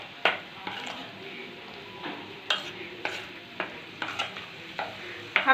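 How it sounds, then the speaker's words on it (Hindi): A spoon stirs chana and urad dal batter in a bowl, giving soft wet churning broken by about a dozen sharp taps and scrapes against the vessel at an irregular pace, close by and without speech. "अब अच्छी तरह से हम इस दाल को मिक्स कर लेते हैं।"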